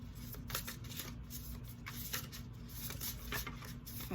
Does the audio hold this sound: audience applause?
no